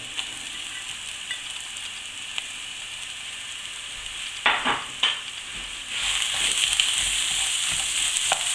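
Onions and peppers fry alongside aubergines in a pan, a steady low sizzle with a few stirring scrapes midway, then the frying swells louder and brighter toward the end.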